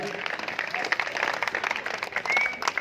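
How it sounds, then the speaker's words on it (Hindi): Audience applause at the opening ceremony of a powerlifting bench press competition, a brief burst of steady crowd clapping with voices underneath. "एक बार जोरदार तालियों से इस प्रतियोगिता का हम शुभारंभ।"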